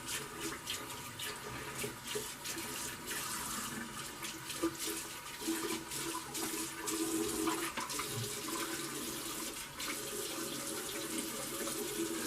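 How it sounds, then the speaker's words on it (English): Tap water runs steadily into a bathroom sink as it is rinsed and cleaned after a shave, a continuous close splashing hiss with no voices. "So let me clean up my sink and everything"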